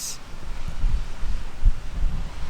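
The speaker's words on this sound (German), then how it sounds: "es ist schon etwas anstrengend, wenn man die ganze Zeit dem Wind so ausgesetzt ist" Steady wind buffeting a microphone outdoors beside a Suzuki Jimny micro camper on a Sardinia road trip, a continuous low rumbling roar with gusty swells and no talk.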